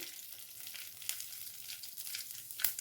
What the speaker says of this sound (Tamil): இந்த கடையில் கொஞ்சம் எண்ணெய் சேர்த்துக்கலாம் கடை உளுந்து சேர்த்துக்கலாம்